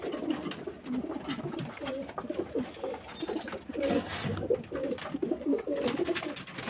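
Pigeons and young squabs in a rooftop loft, repeated throaty cooing from several birds overlapping in a steady rhythm, close and moderately quiet.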